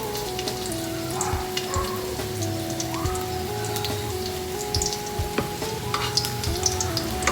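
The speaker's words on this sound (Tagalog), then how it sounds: "Igisa na ho natin" Food sautés in a hot pan with a steady, even sizzle and crackle lasting throughout, dotted with small pops and faint stirring scrapes, close by with no talking.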